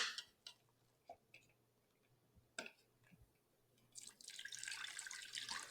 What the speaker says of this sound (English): We're putting in a cup of water with that.